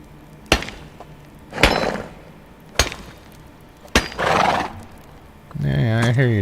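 Horse whinnying and snorting in the medieval farming game Medieval Dynasty, several sharp bursts spaced through the clip, ending in a longer, wavering whinny, with game ambience beneath.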